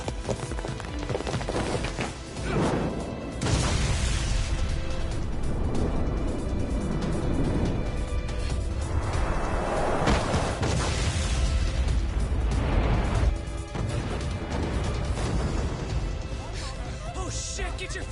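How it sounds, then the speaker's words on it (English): Deep rumbling booms and bursts of a ship exploding in the video game Lost Judgment, several swelling blasts over continuous low roar, loud and close, with shouting voices mixed in. "This ship just exploded!"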